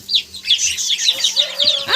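Goslings and chicks peep under a heat lamp in a farmyard brooder, a rapid string of high thin chirps close up, overlapping one another, with a low steady hum beneath.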